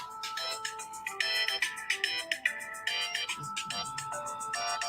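A phone ringtone plays loudly through the whole span, a bright repeating melodic pattern with short gaps between phrases, with nobody speaking over it.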